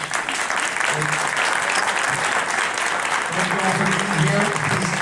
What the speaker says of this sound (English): let's give you a round of applause for showing up tonight